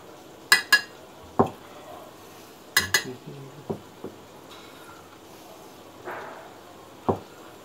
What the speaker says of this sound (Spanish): Ahora vamos a poner en el plato el brócoli.